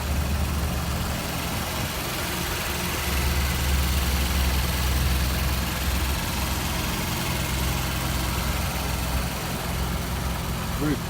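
A 2017 Porsche Panamera 4S engine idles steadily with a low, smooth hum and faint vibration, quiet and constant throughout.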